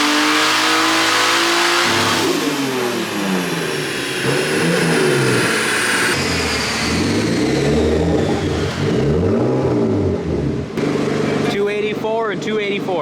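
Turbocharged Nissan S15 engine revving hard through repeated power runs on a dyno, rising and falling engine pitch sweeps, loud and close, with a voice talking over it.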